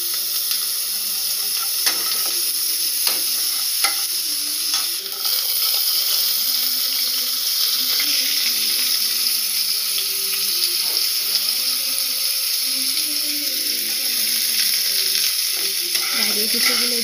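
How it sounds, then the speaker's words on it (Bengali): Grated coconut and chopped carrot fry in a pan for a dalia dish, giving a steady sizzle with occasional scraping stirs, close and continuous with no talking. "গাজর কুচোগুলো দিয়ে আমি ভালো করে ভেজে নিচ্ছি।"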